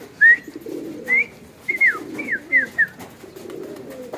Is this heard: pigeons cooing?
yes